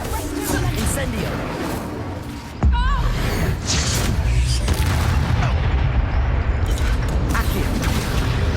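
A wizard's Incendio fire spell in Hogwarts Legacy erupts with a sudden loud whoosh and boom, followed by dense roaring game effects and clashing action during a dragon battle.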